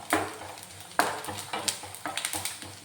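Peanuts and grated coconut fry together in a pan, giving a soft sizzle under irregular scraping and stirring clinks from a spoon, close and fairly quiet, with no voices.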